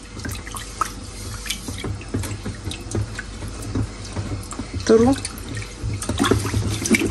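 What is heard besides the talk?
water running from tap, rinsing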